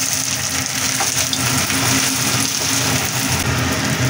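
Rice being mixed with ginger paste and green chili paste in a pan for pulao gives a steady, close sizzle with soft stirring, and no one speaks.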